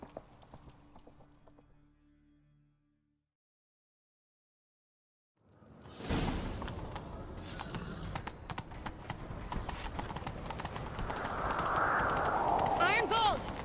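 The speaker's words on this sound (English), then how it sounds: "Grab a horse, we'll chase him down." Hoofbeats of a horse in The Witcher 3: Wild Hunt break in after a silent gap, a steady clip-clop running under loud game sound and voices.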